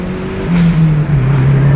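A turbocharged car accelerates flat out, its loud engine drone rising in pitch and holding strong, heard close from inside with no talk.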